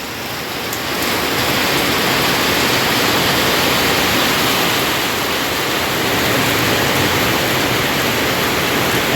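Heavy rain pouring during a storm in Laos: a dense, steady hiss of downpour filling the whole span without pause, loud and close, with no voices.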